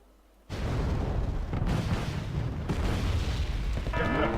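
Heavy artillery explosions in the Wargame Red Dragon video game, a continuous roar of booming blasts and rumbling impacts that starts abruptly after a brief quiet and stays loud throughout.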